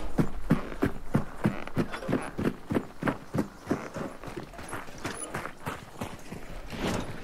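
A horse's hooves clip-clop in a steady, even rhythm inside a video game, moderately loud and close, with faint creaks in the background.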